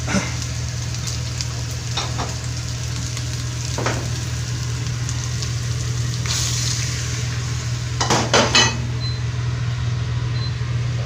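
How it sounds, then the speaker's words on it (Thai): Beef is stir-fried with Thai chili curry paste in a pan: a continuous close sizzle with a few sharp spatula scrapes and clinks, over a low steady hum. "เอาเนื้อใส่ลงไปเลยนะครับ ผัดสักครู่ครับ"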